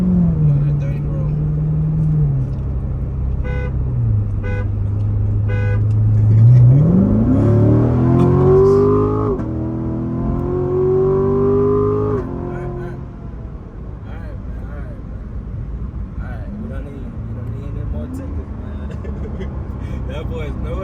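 Chevrolet Corvette engine pulling hard from a roll, a loud near rumble that climbs sharply in pitch through the gears with shifts and a long rising howl, then settles back to a lower cruise, with people talking inside the car.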